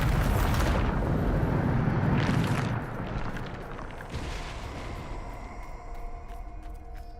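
Bombarda explosion spell in Hogwarts Legacy: several booming blasts with crackling debris in quick succession, loud at first, then fading into lighter scattered crackles and rumbles.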